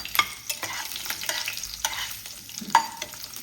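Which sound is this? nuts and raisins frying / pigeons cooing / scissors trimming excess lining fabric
nuts and raisins frying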